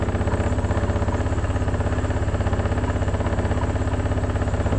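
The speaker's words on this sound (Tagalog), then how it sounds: "Itong motor. Paandarin." A motorcycle engine idles steadily close by after starting, a continuous low rhythmic thrum with a fast regular pulse and no voices.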